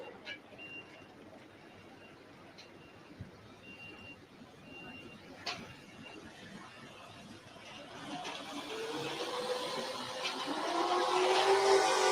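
A distant Oliver 88 pulling tractor with a 351 Windsor Ford V8 roars and builds steadily louder toward the end at a tractor pull, with a high tone and a few sharp knocks earlier over a constant background rumble.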